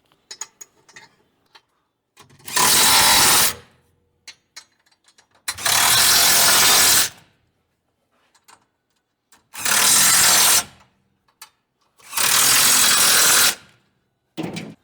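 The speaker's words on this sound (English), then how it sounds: "let's tighten up some of these here bolts" A power tool runs in four loud, sustained bursts about two seconds each, tightening bolts on a truck crossmember, with quiet gaps and faint clinks between bursts.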